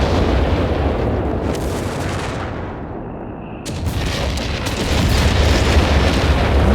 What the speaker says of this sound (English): here comes some artillery from the Allied side. There's the naval bombardment there.